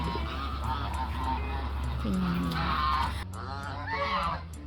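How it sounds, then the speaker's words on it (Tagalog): Chinese geese honk repeatedly over a steady low engine-like hum, the calls loud and close with short harsh bursts. "Chinese goose."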